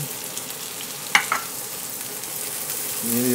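Sofrito sizzling in a pot over medium heat for Puerto Rican stewed beans, a steady close crackling hiss with a brief clatter of a spoon or lid partway through.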